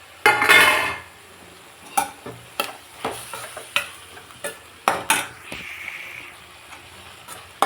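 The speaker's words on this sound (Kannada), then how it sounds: "ಇದಕ್ಕೆ ಸ್ವಲ್ಪ ಕಾಯಿ ಆ್ಯಡ್ ಮಾಡ್ತಾಯಿದ್ದೀನಿ" Grated coconut goes into a hot pan of tempering for a masekai sambar, followed by a steady rhythm of spoon strokes scraping and stirring over a faint sizzle.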